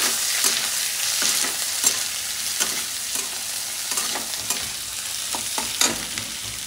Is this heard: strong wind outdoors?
no